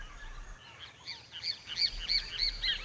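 Tropical forest birds, macaws and parrots, call from the treetops in a series of bright, repeated chirps and squawks that build over a steady background hum, with no voices.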